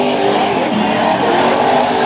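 Race cars slide through turns one and two at Bakersfield Speedway, a dense, loud, continuous engine roar with tire noise layered through it, no voices over the top.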